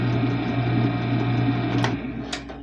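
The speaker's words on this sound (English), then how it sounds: "I'm going to go put this in the mixer with the wet ingredients" A large, heavy stand mixer runs steadily with a loud constant motor whir and hum while mixing wet cookie ingredients, with a couple of brief knocks near the end.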